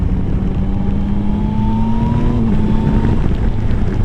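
A 2021 Yamaha Tracer 9 GT motorcycle engine pulls hard and rises in pitch, then dips sharply as the quick shifter with auto blipper clicks up a gear. The loud, close engine drone continues without speech.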